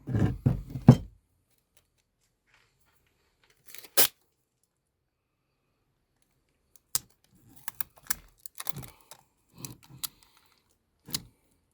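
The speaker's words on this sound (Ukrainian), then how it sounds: "зараз скотч все полікує" Adhesive tape is pulled and torn to patch a crack in a 12-litre Forte battery-powered sprayer. A burst of crackling tape unrolling comes first, then a sharp tear, then a scatter of scattered clicks and short rips, close and with no talking.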